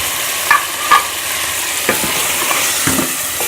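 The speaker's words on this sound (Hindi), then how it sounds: "मैं मसाले के अंदर ये पालक को डाल दूँगी" Spinach paste goes into frying masala for aloo palak curry and is stirred through, a loud close sizzle with several distinct spoon knocks and scrapes against the pan.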